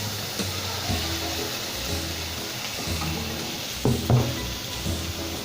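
Tomatoes and capsicum sizzle in a pan with onion and ginger for Mumbai-style masala pav, a moderate steady hiss broken by a few stirring scrapes and clanks.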